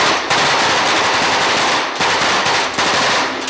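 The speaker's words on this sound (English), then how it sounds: "We had period firearms, Tommy gun instructions." A Tommy gun fires long bursts of rapid automatic gunfire during a period film shoot, loud and close, with brief pauses between two main volleys and no talk.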